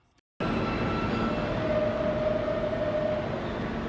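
A New York City subway train pulls into an underground station, its loud steady rumble and rattling wheels filling the platform after a brief quiet start, with a high metallic squeal rising midway through.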